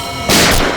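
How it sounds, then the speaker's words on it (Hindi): Sudden loud gunshot burst fired inside a room, a sharp broadband blast with a short ringing tail, alone with no talk. "इस कमरे से गोलियां चलने की आवाज आ रही है।"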